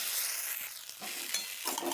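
Spices with a splash of water, salt and turmeric sizzle in a pan while being stirred, a steady close hiss broken by scraping stirs and soft clinks, with no talking.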